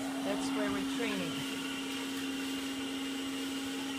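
A Soviet-era USSR vacuum cleaner runs continuously nearby with a steady motor whine and airy roar, with no breaks over the few seconds.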